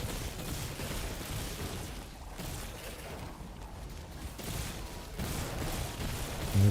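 Gunfire in the video game Destiny 2 (Edge of Fate), a fairly faint rattling stream of shots with brief gaps, mixed into a low, busy game soundscape.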